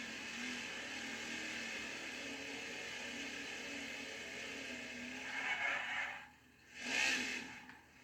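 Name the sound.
race car engine revving in NASCAR video game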